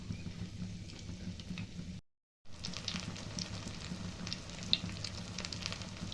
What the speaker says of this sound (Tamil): அதை எண்ணெயில் போட்டு பொரித்து எடுக்கணும்.